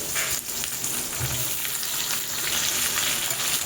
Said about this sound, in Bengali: এবার আমি তেলের মধ্যে একে একে সব সবজিগুলো দিয়ে দেব